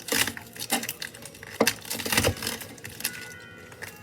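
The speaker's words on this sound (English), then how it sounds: "just chop up your lettuce" A knife chopping lettuce on a board, a series of irregular crisp cuts and rustles, close up and moderately loud.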